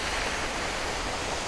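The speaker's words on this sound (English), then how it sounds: "look how powerful that waterfall is" Jeongbang Waterfall on Jeju Island, South Korea, roaring: a steady, dense rush of falling water, an unbroken wash of noise with no voices.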